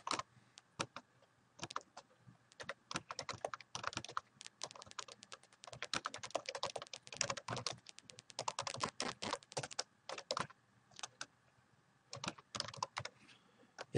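Computer keyboard typing while a legend heading is renamed in GIS mapping software, bursts of quick crisp key clicks with short pauses between, close and alone in a quiet room.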